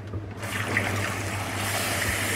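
Tap water runs into a pot of potatoes, a steady close splashing rush that starts after a brief pause and continues evenly, with no talking.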